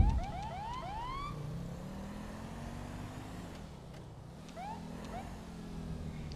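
A police car siren in GTA V wails and yelps in rising sweeps over a steady engine drone, cutting out briefly midway before a few more whoops.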